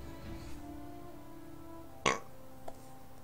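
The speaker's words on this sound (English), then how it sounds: "What is with these burps?" A man burps once, short and close, followed by a smaller belch a moment later over a quiet background hum with no talking.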